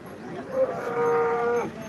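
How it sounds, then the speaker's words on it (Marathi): A cow moos at a livestock market, one long, close, fairly loud drawn-out low call lasting over a second amid faint background bustle. "मामाने गाय आणली बघा"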